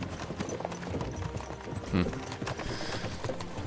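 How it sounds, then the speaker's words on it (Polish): Horse hooves clip-clop steadily in the medieval video game Kingdom Come: Deliverance II, a continuous rhythmic trot under dense background game sound, with voices faintly mixed in. "Przyspiesz tego konia"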